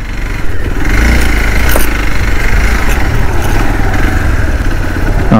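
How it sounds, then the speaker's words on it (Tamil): A jeep crawls slowly along a rough off-road track in Kodaikanal, its engine a loud, steady low rumble with a constant drone throughout and no talking. "ஜீப்பே கொஞ்சம் பொறுமையாக தான் போய்ட்டுருக்கு"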